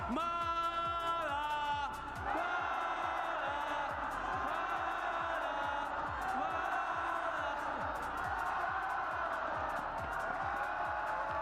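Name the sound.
esports arena crowd cheering and applauding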